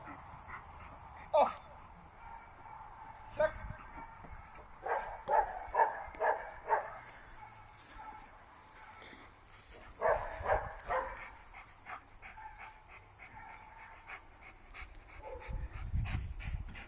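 A dog pants and whimpers during a training routine, with scattered short yips and whines rising over faint background noise, intermittent and fairly quiet, while people talk nearby.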